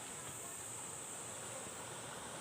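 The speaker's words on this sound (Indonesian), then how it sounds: "Ini di belakang nih laut. Ya, suaranya gemuruh. Iya, gemuruh laut." The sea rumbles at night behind a village in South Teupah, Simeulue, a faint, steady, broadband wash of distant surf with no voices.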